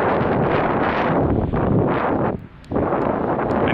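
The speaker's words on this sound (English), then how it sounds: "It's probably super windy" Strong wind at the beach buffets the microphone in loud, continuous roaring gusts, dipping briefly before surging back.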